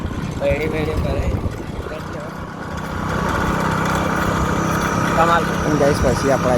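A motorbike engine runs with a steady buzzing drone close by on a farm outing, holding a constant pitch under voices talking over it.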